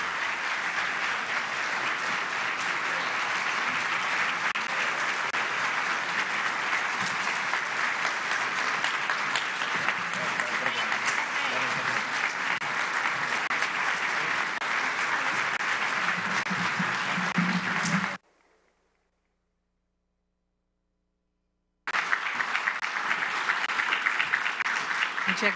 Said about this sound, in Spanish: un fuerte aplauso para ella y bienvenida